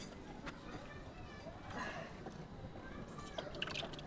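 Liquid for sweet yogurt pours steadily into steel or silver containers, a continuous splashing trickle that swells slightly partway through, with faint background noise.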